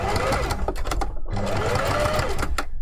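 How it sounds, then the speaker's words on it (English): A sewing machine runs steadily while stitching a 5 mm seam on fursuit hand paw fabric, a close, loud rapid mechanical whir with one brief pause, some faint speech underneath. "This has a 5mm seam allowance as well, so just going to sew that."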